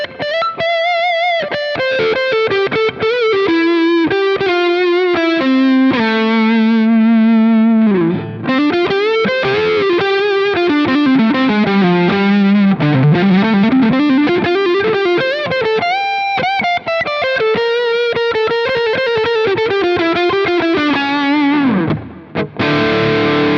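Yamaha RGX electric guitar on its neck pickup, played through distortion with chorus and other effects: loud, sustained melodic runs and held notes with bends, steady throughout with no talking.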